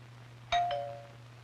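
Doorbell in an old 16mm educational film about magnets, a single bright chime struck once that rings out and fades over about half a second, alone in a quiet background.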